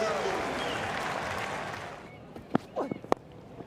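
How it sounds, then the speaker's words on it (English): Cricket crowd at a New Zealand one-day international applauding loudly and steadily, then fading after about two seconds into sparse crowd noise, with a commentator's voice briefly heard near the end. "And the applause"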